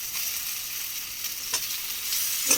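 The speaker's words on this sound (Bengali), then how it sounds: "মশলাটা ভাজা ভাজা হয়ে গেছে, এবার আমি এই মাছটা দিয়ে দেব।" Fish going into hot oil with fried spices for a fish pickle, a steady sizzle with a couple of brief clinks or splutters near the end, no talk.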